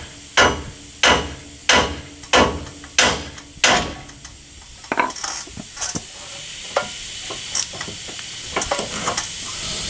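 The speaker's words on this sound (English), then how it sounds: "we're going to remove the upper ball joint" Hammer blows strike the steering knuckle to free the upper ball joint on a Chevy Silverado during a leveling kit install. Six loud, evenly spaced metallic bangs come close by, then lighter scattered taps and clinks follow.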